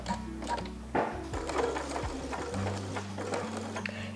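A sewing machine stitches onto a thin fabric strap, running steadily at close range with a rapid mechanical whir and needle clatter and a brief change in pace, no speech over it.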